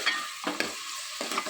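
Onions frying with turmeric, cumin and salt as the base for a fish curry: a brisk continuous sizzle with a few scraping stirs, close and alone.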